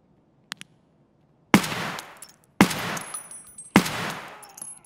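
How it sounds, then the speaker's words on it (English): Three loud, close rifle shots from a VPO-209 in Escape from Tarkov, fired as warning shots at about one-second intervals, each with a sharp crack and a reverberant tail, after two faint clicks and near silence. "The first warning shots didn't scare them off"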